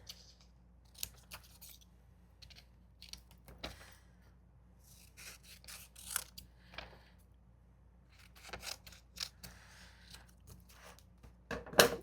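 Scissors snip through paper while a piece is cut out for a journal page, giving sparse, close crisp cuts and rustles in irregular bursts with a sharper snip near the end; no one speaks.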